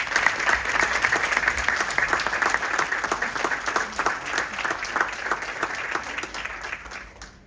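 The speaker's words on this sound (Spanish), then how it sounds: "Un fuerte aplauso, por favor." Applause from the audience at a book presentation event: steady, fairly close clapping from a modest crowd that slowly thins and fades toward the end.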